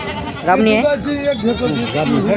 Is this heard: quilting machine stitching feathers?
no